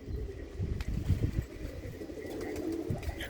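Pigeons coo softly in a coop, low throaty calls repeating under faint background noise and a few light rustles.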